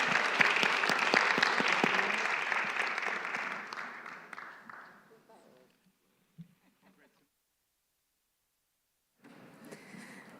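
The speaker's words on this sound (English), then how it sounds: "Please, let's give a round of applause to this exceptional panel." Audience applause for a panel at a policy forum in Bucharest, a loud sustained round of clapping that fades out over several seconds, a brief pause, then faint room noise and murmur returning.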